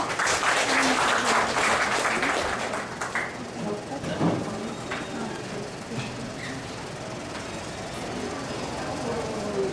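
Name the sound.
applause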